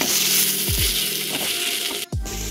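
Ground turmeric, chili, coriander and cumin sizzle loudly while being stirred and fried in a pan, a dense crackling hiss broken by a couple of dull thumps from the spoon.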